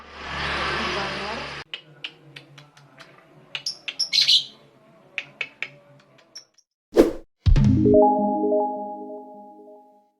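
Lovebirds give a run of sharp, brief chirps and clicks, close and fairly loud, after a burst of rushing noise, followed by a couple of hard knocks and a sustained tonal hum.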